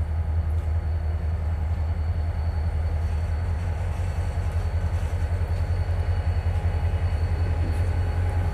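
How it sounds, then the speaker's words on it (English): A heavy Norfolk Southern freight train rumbles past at steady volume, with deep continuous engine drone and rolling wheel noise throughout, no voices. "This is the Norfolk and Southern Railroad. They deal with freight only."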